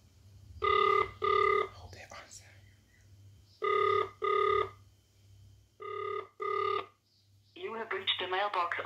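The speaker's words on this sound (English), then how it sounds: "So that is what I'm doing right now. I'm calling my son." A phone call rings out while waiting for an answer, with three pairs of evenly spaced electronic ring tones separated by gaps, followed by a person speaking at the end.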